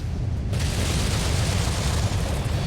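Artillery explosion in the video game MechWarrior 5, a loud sustained rumbling blast that swells in and holds heavy low-end roar for a few seconds.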